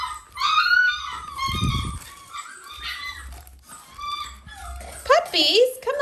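Close-up whines and yelps from Dalmatian puppies come in rising, quavering bursts, with a voice talking over them and a sharp cluster of high cries near the end.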